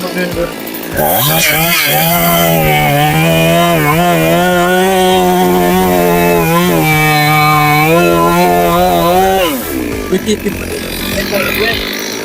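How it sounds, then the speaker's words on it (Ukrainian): A STIHL MS 382 professional petrol chainsaw runs loud and close for about nine seconds, its engine holding a steady high whine with slight revving wobbles before cutting off, with brief outdoor noise before and after. "Це професійна, потужна бензопила."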